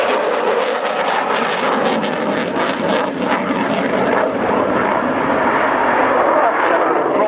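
Italian Eurofighter Typhoon jet in a max rate 9G turn at an air show in Radom, a loud sustained engine roar swelling and rushing overhead, with an announcer talking throughout.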